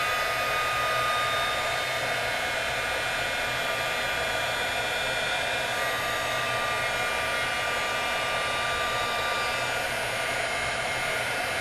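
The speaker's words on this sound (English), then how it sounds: "got my metal tool here, and I'm going to heat set it" Heat tool blowing hot air to melt embossing powder, a steady loud whooshing hum that runs unbroken throughout, close up and alone.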